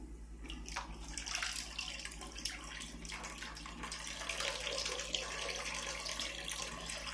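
Warm tap water runs steadily into a sink or basin to thaw a frozen feeder rabbit, a soft continuous splashing rush close by with a low background hum and no talking.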